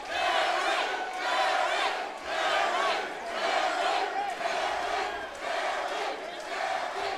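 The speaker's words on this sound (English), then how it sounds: "Listen to this crowd." A large arena crowd at a mixed martial arts bout roars and chants in loud rhythmic swells, rising and falling in waves about every second, with no clear voice in front.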